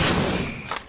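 Gunfire in the Apex Legends video game aimed at a cargo bot, a loud, close burst of shooting that decays over under a second, with a second sharp crack near the end.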